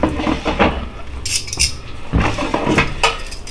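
Chicken wings being flipped with tongs in a Gourmia air fryer basket, giving repeated metallic clinks and scrapes against the basket in short bursts, close and fairly loud, with no talk.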